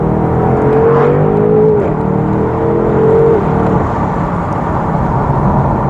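A BMW gets a short burst of throttle, and its engine rises in a couple of swelling pulls over a steady road drone before settling back, with nobody speaking.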